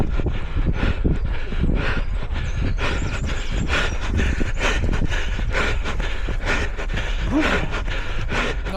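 A runner pants heavily during a parkrun, a continuous rhythmic rush of close, loud breaths mixed with footfall and wind noise, with no talking.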